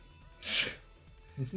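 A single sharp human sneeze bursts out close by, a short hissing blast lasting about half a second, followed moments later by a brief spoken voice.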